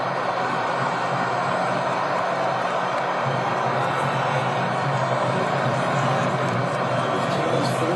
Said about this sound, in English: Listen to the crowd come to life here.